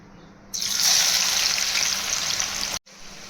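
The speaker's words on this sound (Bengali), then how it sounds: "এবার আমি পেঁয়াজগুলোকে ভেজে নেব।" Sliced onions hit hot refined oil in a kadai for mutton korma beresta. A loud sizzle bursts in after a quiet half second, roars steadily and then cuts off abruptly.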